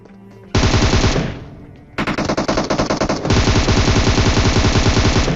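Automatic gunfire in the battle royale game PUBG rattles loud and close: a sustained burst, a short lull, then choppy rapid fire that runs into a long continuous stream of shots.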